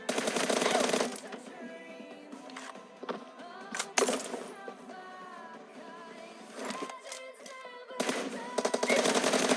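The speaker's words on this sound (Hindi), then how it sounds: "मैंने तो इसको कॉल देने के लिए फायर करा था, बट ये तो फायर करता हुआ निकला" Bursts of gunfire from a battle royale video game, loud bursts opening and closing with scattered single shots in between, heard alongside music and game sound effects.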